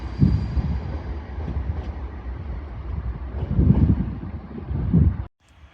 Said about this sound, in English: Departing now is your 1333 Transpennine Express service from Edinburgh Waverley to Manchester Airport.